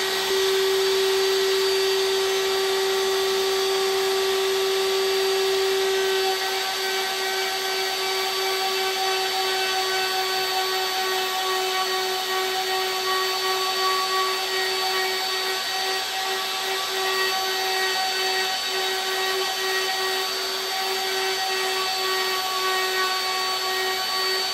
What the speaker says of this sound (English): I use my belt sander to clean up that headstock